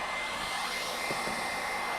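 A hair dryer powered by an Anker Solix C1000 portable power station blows with a steady, loud, even whoosh that stays constant throughout, heard alone with no talking.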